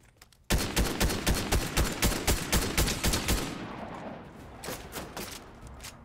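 Rapid bursts of automatic gunfire in a Fortnite match, loud and close, rattling steadily for about three seconds before thinning out into scattered distant shots.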